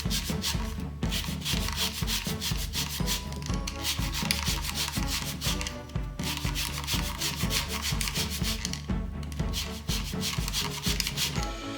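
A lemon is zested for almond lemon biscotti, with quick repetitive rasping scrapes in a steady rhythm of bursts, each a few strokes, running close and loud throughout without speech.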